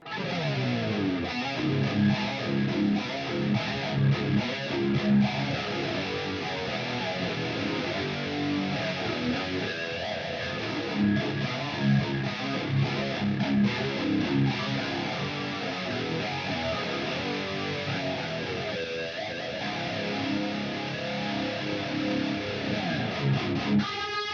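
Distorted electric guitar plays continuously through a Fender amp modeler preset, chords and riffs with a thick, saturated tone, fairly quiet overall.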